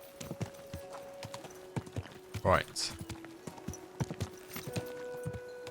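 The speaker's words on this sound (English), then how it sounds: "Ah, there's our horse." Horse hooves clip-clop at a steady walking pace through a medieval town in Kingdom Come: Deliverance II, with a brief whinny midway and someone talking over the hoofbeats.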